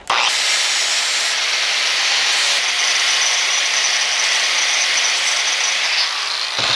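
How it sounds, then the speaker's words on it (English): An angle grinder fitted with a flap disc roughs out weapon blades in a loud, steady abrasive roar that holds for nearly seven seconds with slight changes in tone as the pressure shifts, with no voices. "I'm going to use the flap disc to rough them out."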